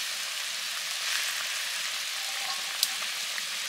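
Pond-caught koi fish sizzling as they go into hot oil in a pan, a steady close bright hiss throughout with a faint crackle near the end.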